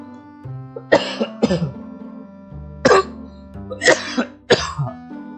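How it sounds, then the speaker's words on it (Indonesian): Several close, harsh coughs and throat-clearing bursts come in irregular fits separated by brief pauses. "Aduh, maaf ya. Batuk."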